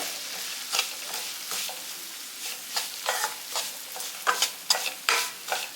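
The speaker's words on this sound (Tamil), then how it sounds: "ஒரு கப் ரவை எடுத்திருக்கேன் அதில் வறுத்துக்கலாம் இந்த நெய்யிலே சிறு தீயிலே வச்சு நல்லா வறுத்துருங்க" Semolina (rava) roasting in ghee over a low flame for rava kesari, with a spoon scraping and stirring through the dry grains in uneven bursts over a soft, steady background.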